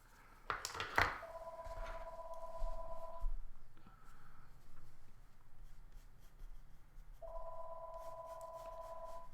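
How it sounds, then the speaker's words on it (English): A telephone rings indoors, two long electronic ring bursts separated by a pause, moderately loud over quiet scratching of pens and markers on paper. "Pardon the phone ringing there."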